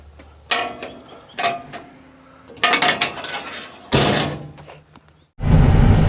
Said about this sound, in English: Always got to remember to open up the one-way valve here.